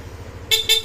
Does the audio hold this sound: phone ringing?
no